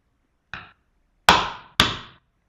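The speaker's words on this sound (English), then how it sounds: "So we've made the two holes using the hammer and the nail." Three sharp metallic taps of a hammer on a nail, one lighter strike followed by two harder ones, each ringing briefly in a quiet room.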